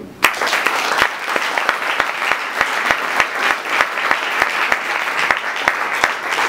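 Wedding guests applaud in a hall during an official civil marriage ceremony, a loud continuous clapping with sharp, rhythmic unison claps cutting through at a steady beat, with cheering under it.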